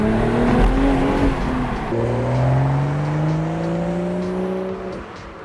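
A 2025 BMW Z4 M40i with a six-speed manual accelerates hard, its engine note climbing steadily, dropping at a gear change, then rising again before easing off. The car is close and loud.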